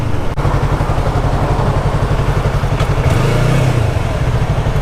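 A motorcycle engine idles loud and close with a steady pulsing throb, then briefly revs up and settles again near the end.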